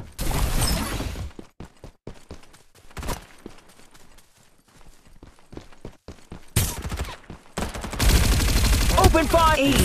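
Video game gunfire in Farlight 84 comes in rapid automatic bursts, loud and close, with quieter gaps between volleys and game voice announcements over it.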